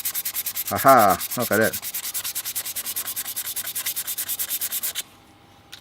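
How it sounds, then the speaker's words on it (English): Fine sandpaper of roughly 340-380 grit rubbed quickly over a metal surface in rapid back-and-forth strokes, a steady scratchy rhythm lasting about five seconds before stopping, with a person speaking briefly near the start. "use a fine sandpaper. This one is roughly around, I don't know, 380, 340 grit or something. I'll just quickly rub it"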